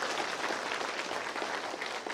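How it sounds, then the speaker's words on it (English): Applause from the congregation at a first religious profession ceremony for newly professed sisters, a dense even wash of many hands clapping for about two seconds, moderately distant, with no talking over it. "round of applause."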